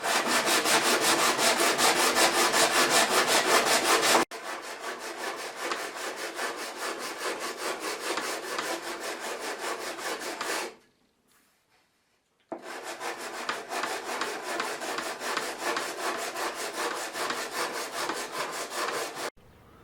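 Steady rasping strokes of sandpaper on a wooden straightedge for a sheet metal brake, loud and close, continuing in rhythmic bursts with one brief pause before resuming.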